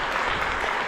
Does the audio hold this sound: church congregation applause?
yes